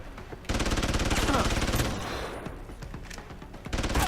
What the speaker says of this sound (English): I don't think I'm gonna make it through this gunfight.